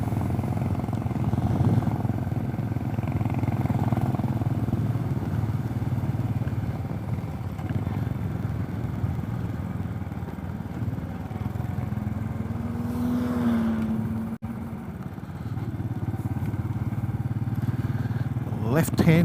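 A Royal Enfield 500 with a sidecar thumps along steadily on the road, its engine drone loud and continuous under wind rush, with a brief change in pitch partway through.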